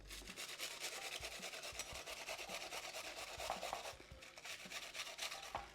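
Savoy cabbage being grated by hand for coleslaw, a steady rapid rasping scrape that runs continuously and close up, with no talking.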